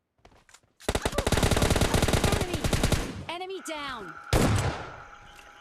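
Gunfire in PUBG Mobile Lite, a long rapid automatic burst of close, loud shots lasting about two seconds, then a brief tonal sweep and one more heavy shot trailing off.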